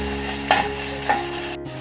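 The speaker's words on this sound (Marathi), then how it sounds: "कांदा चांगला परतलेला आहे त्याच्यामध्ये मी टॅमॅटो टाकते आता कांदा आणि टॅमॅटो चांगला मऊ होईपर्यंत ना मी परतून घेते" Onion and tomato frying in a pan, a steady close sizzle with two clear stirring scrapes of a spoon against the pan, no voices.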